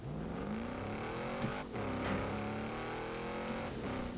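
Sustained car engine and exhaust from the Forza racing video game, a steady revving drone that rises and falls through gear changes, with a brief dip near the middle, loud and continuous.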